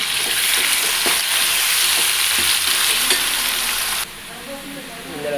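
Onion and tomato paste fries loudly in oil with a dense, crackling sizzle and stirring scrapes, dropping to a softer hiss near the end.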